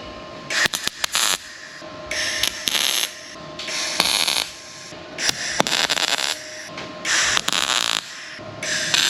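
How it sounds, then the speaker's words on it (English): Ratchet straps are released from a fuel tank fixture in a workshop, giving repeated sharp clicks and rasping mechanical bursts in irregular clusters, close and fairly loud. "We can take the ratchet straps off from there."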